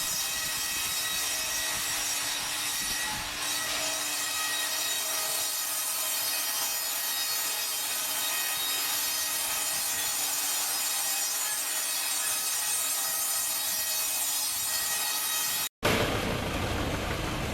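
BN110 sawmill cutting raw logs, a steady, loud mechanical whine and rasp of the blade through wood running continuously, ending with an abrupt cut and a brief shift in tone.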